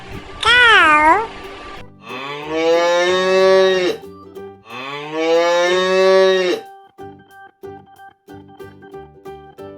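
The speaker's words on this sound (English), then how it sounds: "Cow." Two long, drawn-out moos from a farm cow, each lasting about two seconds, loud and close, preceded by a brief cat-like meow and followed by quieter intermittent sounds.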